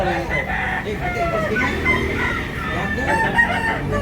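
Roosters crow and cluck loudly at a fighting-cock market in Tabunok, Cebu City, with several birds overlapping close by. People talk faintly in the background.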